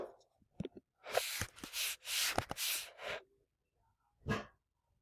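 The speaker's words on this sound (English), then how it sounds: "she sees something outside and starts barking like she is right now" A dog reacting to something outside lets out a tight cluster of sharp, fairly close barks, falls briefly quiet, then gives one more bark.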